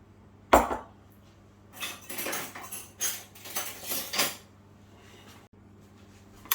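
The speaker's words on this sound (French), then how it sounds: "on récupère la cuillère comme ça, on vient mélanger" A spoon stirs potatoes in oil in a pan, producing a sharp knock then several bursts of scraping and clinking metal, close and moderately loud, with quiet pauses between.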